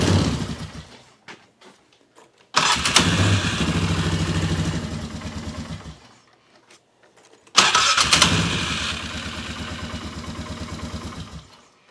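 A Polaris Sportsman 400 ATV engine, running poorly after mudding, cranks and catches twice, each time settling into a loud, close, rough idle for several seconds before dying away, with quiet gaps between attempts.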